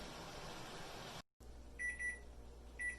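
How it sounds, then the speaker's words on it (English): An electronic kitchen timer beeps in short repeated bursts after a brief silence, marking the end of a boiling-water canning process, over a low steady appliance hum. "our timer is done, which means this is done with the boiling process."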